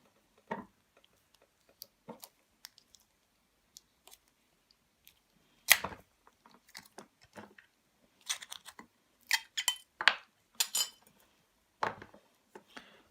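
Someone prying apart the outer casing of a 1.5 volt battery, with sparse faint clicks and small metallic snaps coming in scattered bursts, denser toward the end, and no talking.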